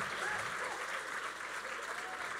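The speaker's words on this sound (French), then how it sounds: "On l'applaudit!" Live theatre audience gives dense, sustained applause, a continuous roar of many hands clapping at a steady level with voices mixed in.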